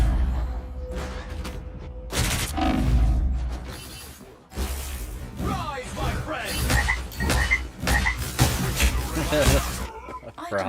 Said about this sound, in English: Thor's hammer's a frog.